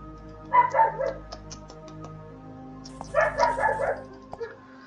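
A dog in the video game Fran Bow barks in two short bursts of rapid yapping, several quick barks each time, over a low steady game music drone with soft plucked notes.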